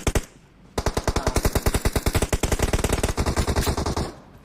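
Rapid automatic gunfire from the video game PUBG Mobile rattles out in two long bursts of sharp, evenly spaced shots, close and loud, with no voices over it.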